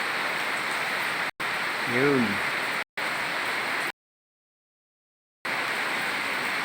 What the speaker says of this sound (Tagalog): Kaya umuulan na naman.